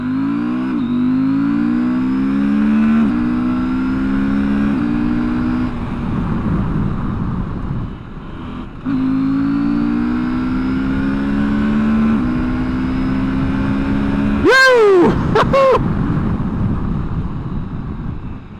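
A 2024 KTM 790 Adventure motorcycle engine revs up and holds, drops back, then climbs again, loud and close, ending with a few sharp quick blips of the throttle; no one speaks.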